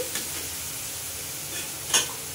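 Chicken kosha fries in oil while being stirred, a soft steady sizzle with a brief scrape of the utensil near the end.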